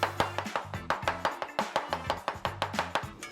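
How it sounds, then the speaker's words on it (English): Pork is chopped with a knife on a board, a steady run of sharp, evenly spaced thuds, close and fairly loud, with no talking. "Chopping meat can be so relaxing also"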